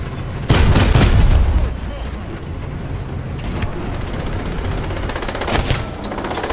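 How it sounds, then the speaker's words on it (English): Enemy tank shell striking a Panzer II in War Thunder, a loud booming blast near the start that fades into a rumbling engine and battlefield noise, with a few softer thuds later. "How the hell did he just shoot me through there?"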